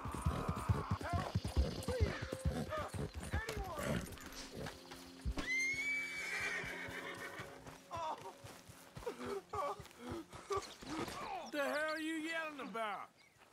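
A horse in the Red Dead Redemption 2 video game neighs with a rising, wavering whinny near the end, after a run of hollow clip-clopping hooves, while people talk over the game sounds.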